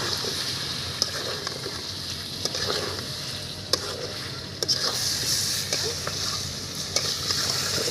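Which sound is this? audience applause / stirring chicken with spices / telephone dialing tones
stirring chicken with spices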